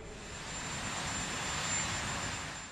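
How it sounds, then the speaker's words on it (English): A presidential helicopter, redesignated Executive One from Marine One, flies out of Washington with a steady, fairly loud rotor and engine roar that swells slightly and then eases. "with Obama no longer president, the designation of the helicopter was switched from Marine One to Executive One"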